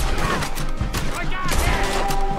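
Rapid gunfire from the video game Red Dead Redemption 2, several sharp shots in quick succession at close range, running under someone talking in German.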